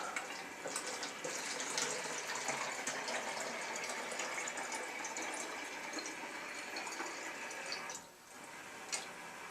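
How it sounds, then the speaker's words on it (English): Water gushing steadily into a container as it is filled to the rim while mixing dry fertilizer, a continuous close pour that briefly dips near the end. "fill it with water up to the rim."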